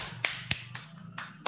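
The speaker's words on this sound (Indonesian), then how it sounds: "Tepuk tangan dong." A handful of sharp, separate hand claps in an uneven rhythm during an online Sunday school session, close and moderately loud with quiet gaps between them.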